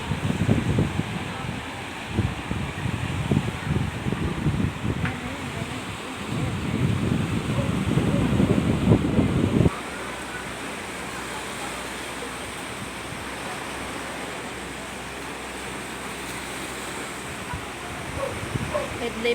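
Strong wind and heavy sea waves near Danao City make a loud, rough roar with gusts buffeting the microphone, heaviest in the first half before easing to a steadier wash.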